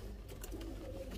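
Domestic pigeons in a breeding loft give a soft, low coo, faint and brief against a quiet indoor background.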